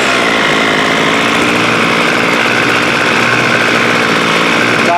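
A small two-stroke engine on a water-soaked Homelite string trimmer runs at a steady idle, loud and close, with a buzzy, rattling drone that holds constant throughout.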